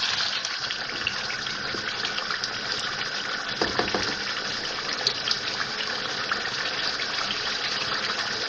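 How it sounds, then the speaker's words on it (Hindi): Water pours steadily into a pot of chicken and potato curry to make broth, a continuous close gushing splash that stays loud and even throughout, with no talk. "अब इसमें शोरबे के लिए पानी डालूंगी।"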